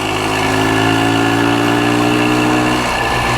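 A 1965 Montgomery Wards Benelli Scrambler motorcycle engine runs close and loud, a steady mid-pitched idle whose tone shifts slightly near the end.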